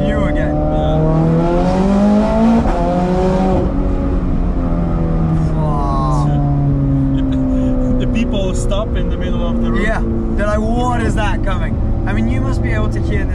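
A Ferrari engine pulling hard on a flat-out run, heard from inside the car as a loud, steady roar with rising and falling pitch through gear changes, while people talk over it.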